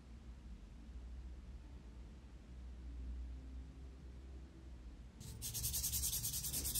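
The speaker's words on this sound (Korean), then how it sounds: "방금 큐티클 라인 올려준 부분을 자연스럽게 하기 위해서 표면 파일링을 하겠습니다." A polygel nail extension's surface is filed smooth along the cuticle line, giving a steady close rasping rub for most of the stretch, then turning louder and brighter near the end.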